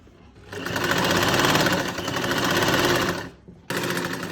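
A sewing machine stitches back along a salwar seam, a loud, close, rapid mechanical rattle running steadily for a few seconds, then stopping briefly before starting again.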